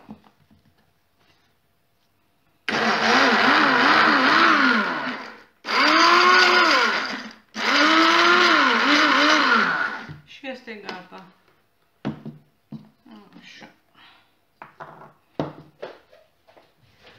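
A blender whirs loudly through homemade fasting mayonnaise in three sustained bursts, its motor pitch wavering as the mix thickens, followed by scattered clicks and handling noises while a voice talks.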